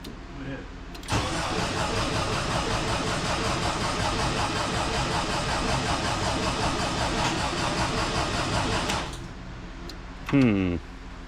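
Air-cooled Volkswagen Vanagon engine cranks and catches, then settles into a steady, loud idle for several seconds before shutting off, with people talking nearby at the end.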